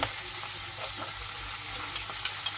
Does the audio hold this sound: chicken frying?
yes